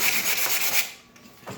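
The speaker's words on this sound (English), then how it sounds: "I actually bought a proper sanding block" Close, steady scratchy rubbing of a sanding block back and forth over rattan wasters, in short strokes that fade briefly before resuming.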